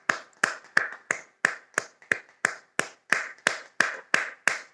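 Hands clap in a steady rhythm, thirteen sharp, evenly spaced claps, close and crisp with nothing else heard.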